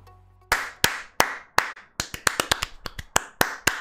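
Sharp, close hand claps in the KanColle video game ring out after a brief quiet start, first spaced apart and then quickening into a fast, uneven burst of crisp individual claps.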